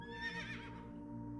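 A horse mount in World of Warcraft lets out a single short, clear neigh that rises and then fades quickly, heard alone.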